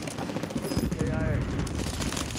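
Video game gunfire coming from below a building: rapid bursts of automatic shots at moderate loudness, sounding somewhat distant, with voices talking over part of it.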